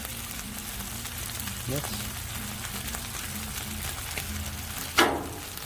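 Okra fries on a Blackstone griddle with a steady soft sizzle under a man's brief speech, a low hum throughout and a sharp scrape or clatter near the end.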